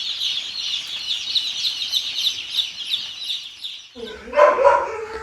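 A dense flock of broiler chicks peeps and chirps continuously near a water point on a poultry farm, a bright, busy chorus that gives way to a few close, loud barks from a dog.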